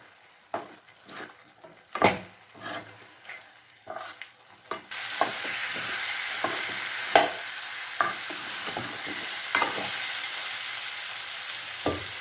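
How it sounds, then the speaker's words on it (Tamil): Chicken gravy masala with pepper, turmeric and coriander powder being stirred in a frying pan, a spoon scraping and knocking in sharp irregular strokes, then a steady loud sizzle starts about midway and carries on under further stirring. "நல்லா கலந்துக்கலாம்"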